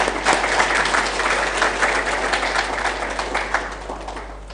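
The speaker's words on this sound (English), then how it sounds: "Can we give her another round of applause?" A conference audience applauds a departing minister at a panel discussion on intra-African food markets, steady dense clapping filling the room for several seconds and tapering slightly at the end, with no talk over it.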